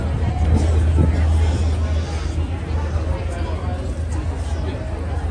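Dense crowd chatter surrounds a standing person at Hollywood Studios, a constant close babble of many voices with a low rumble of vehicle-like background noise underneath.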